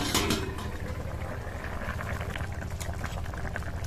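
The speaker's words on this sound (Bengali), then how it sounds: "জল, ঢাকনা চাপা দিয়ে দেবো সেদ্ধ হওয়ার জন্য।" Papaya with shrimp simmering in water under a covered lid, a low steady bubbling and faint patter, close and continuous with no voices.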